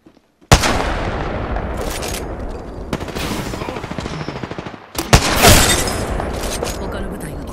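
Heavy automatic gunfire from an attacking enemy squad in the Apex Legends battle royale game, dense sustained bursts that pause briefly near the middle and then resume louder, with game voice lines faintly mixed in.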